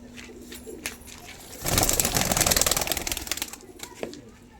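Giribaz pigeons coo at close range, soft low calls near the start and end around a loud burst of wing flapping in the middle.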